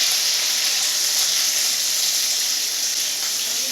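Onions hitting hot oil in a pan, giving a loud, steady, bright sizzle that holds evenly throughout with no talking.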